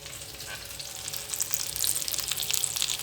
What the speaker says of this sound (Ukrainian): буду смажити котлети, точніше вже смажу